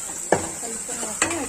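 Onions and tomatoes are stirred in a pan, with two sharp scrapes of the spoon against the metal over a soft background sizzle, near and distinct.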